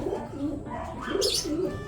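Soft, repeated cooing of pigeons close by in a loft, a few low throaty calls with a brief higher chirp partway through.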